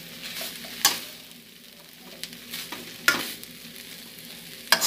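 Meat frying with onion in a hot pan, a steady low sizzle broken by a few sharp stirring scrapes, close and moderately loud with no talking.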